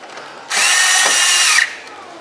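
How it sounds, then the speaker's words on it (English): A power drill gives one short, close whirring burst of about a second while snugging down a screw on a Corvette C7 fender cover, then stops. "You can snug this screw down"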